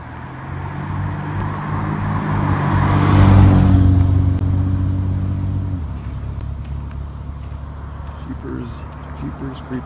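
A car drives past on a busy road in bumper-to-bumper morning traffic, its engine rumble swelling to a peak and fading away again, close and fairly loud, with continuous traffic noise behind it.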